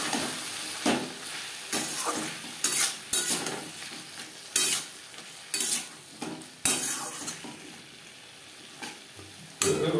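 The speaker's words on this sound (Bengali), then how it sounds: "মশলার সাথে আলু কষাবার সুবিধার জন্য দিয়ে দেবো সামান্য পরিমাণের জল।" Potatoes cooking in a pan with salt, turmeric, spices and a little water for a Chela fish curry. A soft sizzle runs throughout, cut by bursts of spatula scraping and clinks against the pan, with no voices.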